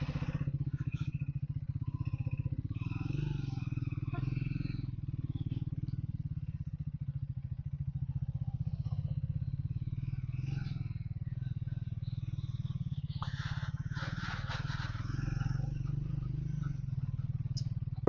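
A motorcycle rides a rough off-road stretch through roadworks on a Nepal-to-India route, its engine a steady, close, low rumble throughout with intermittent clatter and rattling over the uneven ground.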